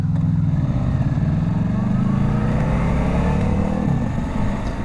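A Suzuki V-Strom touring motorcycle's engine hums as a low, steady drone with a faint rise in pitch while riding, heard continuously up close.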